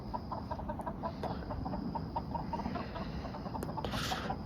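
A flock of chickens clucks agitatedly in fast, repeated bursts over constant outdoor noise, with a couple of brief sharp clicks and a rising squawk toward the end.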